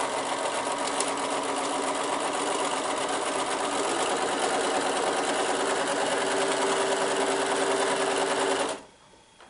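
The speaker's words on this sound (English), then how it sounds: "I'm sewing just right on that marked line." A Bernina sewing machine fitted with a number 37 presser foot stitches quilt fabric along a marked line. It gives a steady, close, fast mechanical whir that runs continuously and then stops abruptly at the end.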